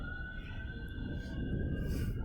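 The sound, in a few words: ambulance siren passing outside the garden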